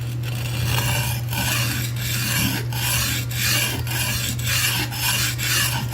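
A steel blade is sharpened with steady back-and-forth rasping strokes, about ten even passes with brief pauses between them, close and clear with a low constant hum underneath and no talking.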